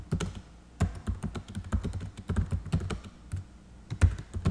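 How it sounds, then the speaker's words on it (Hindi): Text is typed on a computer keyboard into a spreadsheet cell, a close, uneven run of sharp key clicks with several louder thumps, heard alone with no talking. "मैं इस सेल में ज़्यादा टेक्स्ट लिखता हूँ"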